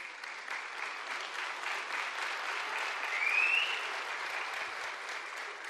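Applause at a political rally in Turkey, begun by a pensioner and picked up by the crowd, a steady dense wash of clapping that swells slightly midway.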